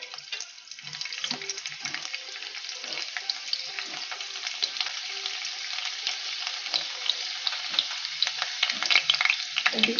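Whole garlic cloves and asafoetida sizzle steadily in hot oil, a dense continuous crackle that grows a little louder and busier toward the end, with no voices.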